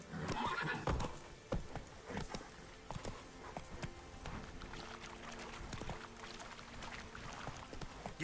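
A horse in The Witcher 3 gives a whinny, then its hooves clip-clop in a galloping rhythm amid soft splashing and scattered game sounds, fairly close.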